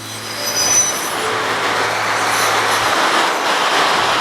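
The tail end of a Norfolk Southern freight train, P12, rolls past close to the track with a steady rumble and high wheel squeals. No voices are heard.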